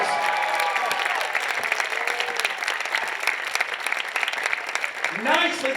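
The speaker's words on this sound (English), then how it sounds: "Let's give them both a nice round of applause." Steady audience applause at an awards event, a continuous crowd of clapping hands filling the room, with a voice starting to speak over it at the close.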